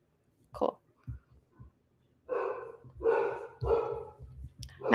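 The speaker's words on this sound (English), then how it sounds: "Now my dogs are barking" Dogs barking indoors at a distance, a few short muffled barks followed by several louder, longer barks in quick succession.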